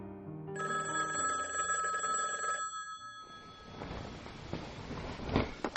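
A telephone bell rings at night, a steady electronic ringing tone for a few seconds, then cut off and followed by muffled rustling and soft thumps, as of someone waking and fumbling for the handset.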